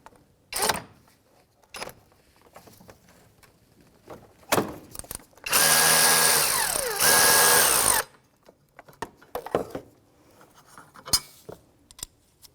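A power tool with a 15mm socket spins out the upper engine mount bolt on a 2001-2007 Volvo V70, giving a loud whirring burst of about two and a half seconds amid scattered metallic clicks and clatter.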